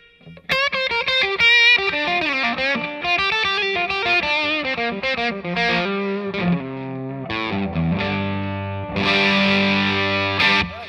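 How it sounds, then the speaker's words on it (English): Les Paul Standard electric guitar played through a Nobels ODR-1 overdrive pedal with a light touch of delay: a steady run of crunchy, overdriven single notes and chords, loud and close, with ringing sustain and faint echo tails. "So now that's the potent pairing, the Nobels and the Les Paul. A little sprinkling of delay"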